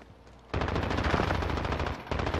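Rapid automatic gunfire from an M13 rifle in the video game Warzone, loud sustained bursts after a quieter opening, nearly filling the clip.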